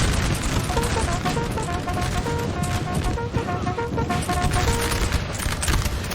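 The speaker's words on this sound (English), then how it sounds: "nice shots by the 6-pounder" Battlefield in Napoleon Total War where a 6-pounder artillery cannon fires amid a dense, continuous din of musketry volleys and booms. The crackling fusillade is loud and unbroken and has no voices over it.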